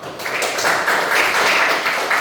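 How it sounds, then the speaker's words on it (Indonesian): A classroom of pupils claps their hands together in a brief, dense burst of applause that swells slightly and holds steady for a couple of seconds. "Oke, tepuk tangan buat semua dulu."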